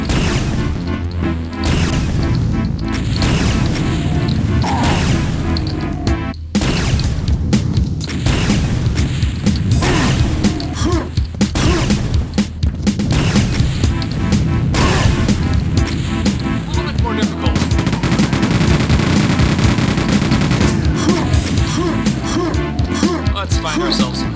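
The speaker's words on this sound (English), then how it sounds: "Rocket launcher in Quake II glory" Rocket launcher fire in the video game Quake II produces repeated heavy booms and crashing blasts, loud and dense over a long stretch of combat.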